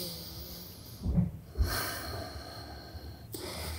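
Deep yogic belly breathing, with slow, airy inhales and exhales taken close to the microphone, including a couple of stronger snort-like breaths, and soft hiss between them.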